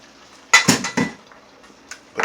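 Eggs and pepper being mixed in a bowl for a scrapple and eggs breakfast, heard as a few sharp utensil clinks and scrapes against the dish in quick bursts, then quieter taps.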